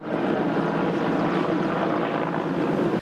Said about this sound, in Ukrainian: Гелікоптери набирали воду із найближчих водойм та раз по раз поверталися до вогнищ